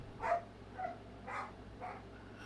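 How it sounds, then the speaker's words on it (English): A pet dog barking outdoors in a few separate yelps or howl-like cries, moderately distant and fairly quiet over a steady low background hum. "there goes my dog screaming."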